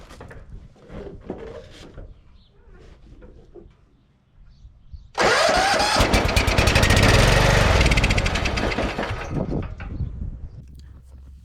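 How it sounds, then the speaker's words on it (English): A Bolens 1858 H18XL garden tractor, fitted with a newly installed carburetor and a repaired throttle linkage, goes through a few quiet clicks and clunks and then cranks over into a loud, sustained whirring engine roar close by. The roar fades gradually toward the end. "trying to get this tractor starting after I got the throttle linkage fixed and the carburetor installed onto the tractor."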